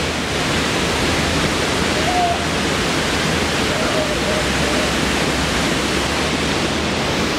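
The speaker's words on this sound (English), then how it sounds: "So we made it to the waterfall." Butte Creek Falls pours in a steady, broadband rush of falling water, a continuous close roar that holds level throughout with no breaks.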